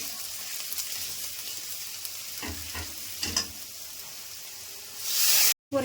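Onions, grated ginger and ground cumin and coriander fry in hot oil for a rohu fish curry with taro, making a steady close sizzle broken by a few stirring scrapes before cutting off abruptly.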